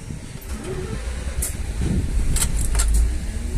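A Jelcz M121M/4 city bus engine rumbles low and steady from inside the vehicle, rising slightly as it moves, with a few faint rattles and jingles.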